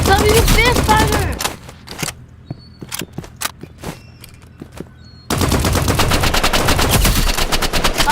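Assault rifle gunfire in a video game, dense automatic bursts at the start and end with scattered single sharp shots in between, loud and close, with voices talking over parts of it.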